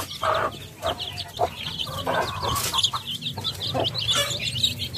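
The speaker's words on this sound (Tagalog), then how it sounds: "daming sisiyo ng manok, oh." A mother hen clucks steadily while her many young chicks peep around her in a farmyard, the calls close, overlapping and continuous.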